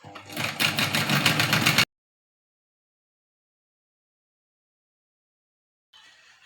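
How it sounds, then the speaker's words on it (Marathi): A sewing machine stitches a cross tack on a blouse tuck in a home tailoring setting, running in a loud continuous burst for under two seconds, then falling silent before a faint whir returns near the end. "अशा प्रकारे क्रॉस मध्ये आपल्याला एक टिप मारून घ्यायची आहे"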